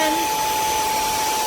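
A WADEO 3-in-1 cordless handheld vacuum cleaner runs at full power, giving a loud, steady airy whoosh with a thin high motor whine that holds constant throughout and has no pauses.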